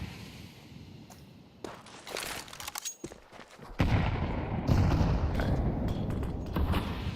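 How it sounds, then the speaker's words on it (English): An early grenade thrown in an esports match of Rainbow Six Siege (ESL Impact League), with a burst of dense, noisy game effects and scattered sharp cracks swelling into a sustained loud roar. "Early nade down from Blue Otter,"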